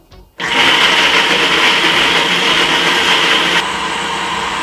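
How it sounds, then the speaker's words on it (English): An electric blender purees cooked yam, starting abruptly with a loud steady whir that drops slightly in pitch and level partway through as the mixture smooths, with no talking. "I'm just gonna blend away until a very smooth puree is formed"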